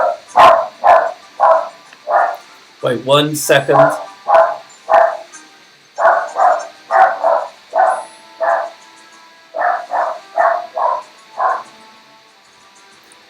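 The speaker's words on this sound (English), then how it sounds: "Apologies, the dog is barking." A dog barks repeatedly in short clustered bursts close by, loud and steady across the stretch, while someone briefly speaks over it midway.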